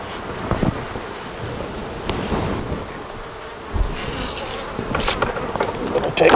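Steady, busy buzzing of many honey bees close by at an open hive, with a few louder bursts as insects pass near; no voices.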